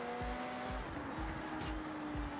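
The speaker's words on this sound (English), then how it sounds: "I have to say, this race exhaust on the Huracan sounds pretty good." A Lamborghini Huracan fitted with a race exhaust in the Forza Horizon video game drones steadily with a buzzing engine note, punctuated by repeated low thumps roughly every half second, loud and without talk.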